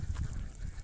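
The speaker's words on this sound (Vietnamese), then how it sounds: "Vịt rất là nhiều." Thousands of ducks at a rural duck farm, a low, muffled chorus of honking quacks close by, continuous and fairly faint throughout the short stretch.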